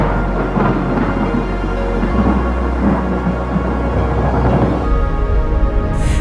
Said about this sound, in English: It recorded the sound of wind and thunder on Venus.